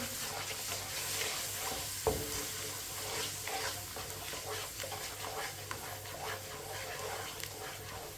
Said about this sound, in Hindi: थोड़ा सा पानी डाल लेंगे, अच्छी तरह मिक्स कर लेंगे।